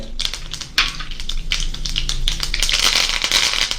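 Mustard seeds, fenugreek and curry leaves splutter in hot oil with a dense, crackling sizzle of fast popping bursts, loud and close, with no talking.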